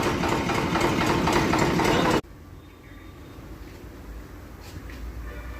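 A Sonalika 745 tractor with a clutch fault runs loud and close, a dense steady engine roar that cuts off abruptly after two seconds, leaving a quiet low rumble.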